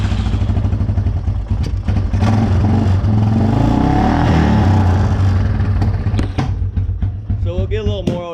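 A Yamaha Wolverine 350 ATV engine runs with a hand held over the carburetor, rising to a rough, loud rev then stumbling and fading near the end, recorded close.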